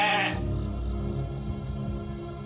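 A sheep gives one short, loud bleat up close at the start, then fades into a quiet background with soft ambient sound and no talking.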